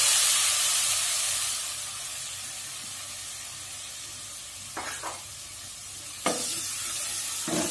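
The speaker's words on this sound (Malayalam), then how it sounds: "ഇനി നമ്മുടെ പ്രധാന ചേരുവയായ തക്കാളി ചേർക്കുകയാണ്." Chopped tomatoes, three of them, sizzle and fry in a pan while being stirred for traditional tomato rice, a steady hiss with a few louder scraping stirs near the end.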